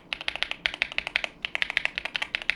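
Brisk typing on a YUNZII AL65 mechanical keyboard, a fast run of crisp, clacky keystrokes with two brief pauses, close and clear with no voices.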